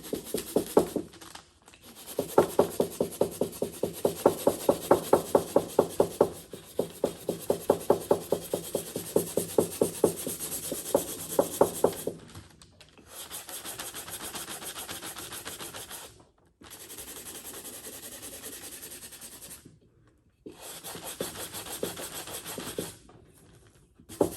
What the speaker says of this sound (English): I heard a block sander is best because if you use a piece of paper, it can kind of form to the shape of the jar